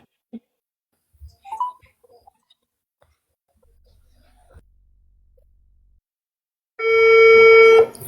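A phone call's ringing tone sounds as one steady electronic tone near the end, after a long stretch of near silence with a few faint clicks and rustles.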